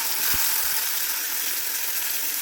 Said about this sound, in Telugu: 5 నిమిషాల పాటు వేగించుకోవాలి. ఇది కొంచెం వేగే వరకు కలుపుతూ ఉండాలి, లేకపోతే మూకుడికి అంటిపోతూ ఉంటుంది